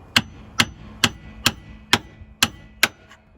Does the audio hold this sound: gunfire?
no